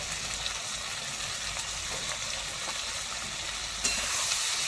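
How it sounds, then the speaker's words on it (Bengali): Spice paste with salt, sugar and turmeric frying in a pan for a light mutton curry, a steady close sizzle with stirring scrapes, growing brighter and louder near the end. "মশলাটা ভালো করে কষিয়ে নেব।"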